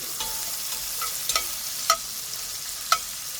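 Bacon chunks sizzle in a hot pan with a soft, even hiss, and a handful of sharp clicks and scrapes ring out now and then; no one speaks.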